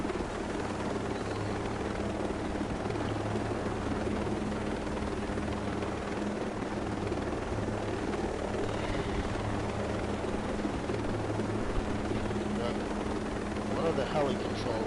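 A helicopter in the Ghost Recon video game makes a continuous rotor drone and engine hum, steady and fairly loud for the whole stretch, with no talk.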